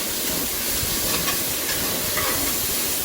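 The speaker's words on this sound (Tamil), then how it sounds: "நல்லா வதக்கி விடுங்க." Masala for mutton curry sautés in a pan while it browns, a dense continuous hiss and sizzle with faint stirring scrapes and no talking.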